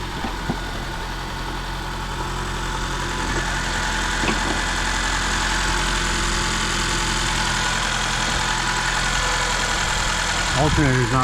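A 2013 Honda Accord with a failing alternator runs after a jump start, its steady idling engine hum continuing throughout at close range, with voices talking over it.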